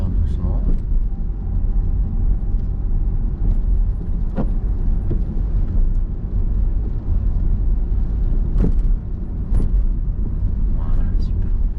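A car engine hums low and steady while the car is gently accelerated during a driving lesson, with faint road rumble underneath and someone talking over it.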